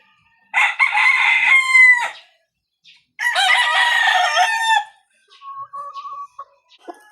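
A Golden Boy Sweater gamefowl rooster crows twice, each call loud and close, with a quiet pause between, followed by a few softer clucks.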